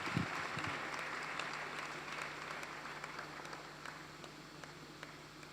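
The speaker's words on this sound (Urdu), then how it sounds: "آئیے خدا ان کے پاک روح کے لیے زوردار تالیاں دیں" A church congregation claps together, a dense steady wash of applause that holds at a moderate level from start to finish with no speech over it.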